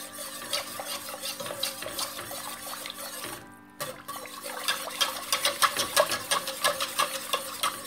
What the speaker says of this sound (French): maintenant il faut utiliser votre fouet